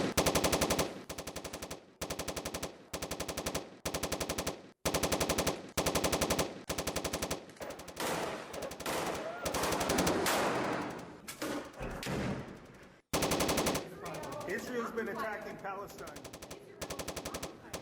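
Sustained machine-gun fire from a Hamas attack in the Zeitoun area of northern Gaza crackles in rapid bursts, broken by short pauses and abrupt cuts, with faint shouting between volleys.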